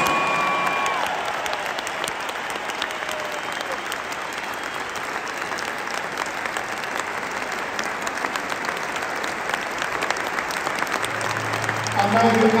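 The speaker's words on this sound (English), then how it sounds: "Celtic Park, give it up one more time for James." Sustained applause from a large football stadium crowd at Celtic Park fills a big open space, dense and steady throughout, with a faint voice near the end.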